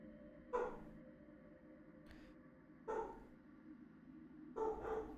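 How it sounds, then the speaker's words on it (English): Dogs outside give three separate muffled barks a couple of seconds apart, faint and distant through a wall, with quiet room tone between. "Excuse the dogs outside."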